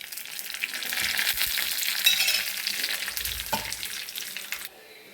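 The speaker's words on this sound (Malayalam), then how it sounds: "കടുക് പൊട്ടിക്കഴിഞ്ഞിട്ടുണ്ട്." Mustard seeds and two dried red chillies crackling and sizzling in hot oil in a pan, a dense, continuous spatter of pops close up that ends abruptly near the finish.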